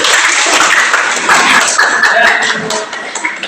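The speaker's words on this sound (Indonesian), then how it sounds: "tepuk tangan dulu semuanya" A classroom group claps together before a presentation, a close, busy patter of many hands that fades slightly toward the end.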